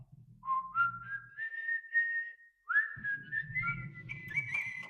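A small robot whistles a bright, rising, chirpy tune meant to imitate Tweety Bird, two phrases of clear tones with soft background rustle between them.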